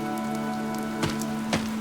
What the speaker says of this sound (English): This rain threatens a coming storm.